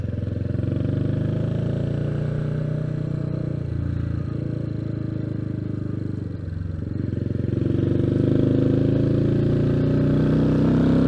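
Royal Enfield Meteor 350 motorcycle pulling away in second gear, a steady loud single-cylinder engine drone that dips briefly then rises again, heard from the rider's position with no talking.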